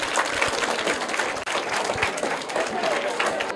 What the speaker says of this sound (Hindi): तो इनके लिए भी जोरदार तालियां हो जाएं